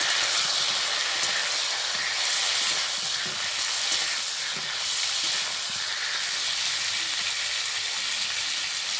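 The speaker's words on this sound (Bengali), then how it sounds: "পটলগুলোকে খুব ভালোভাবে ভেজে নেব।" Salted pointed gourd (potol) frying in oil, a continuous loud crackling sizzle with busy hiss and small spattering pops, steady and close throughout without talk.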